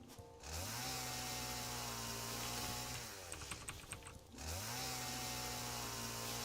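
A loud video game chainsaw engine revs and drones steadily, drops off briefly with some clicking, then roars back up to a sustained whine.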